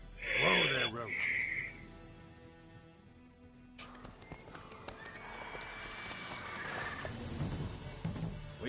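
Roach, the horse in The Witcher 3, gives a loud whinny with hoof clip-clops near the start, then settles to quieter hoof clopping under ambient game sound and faint voices.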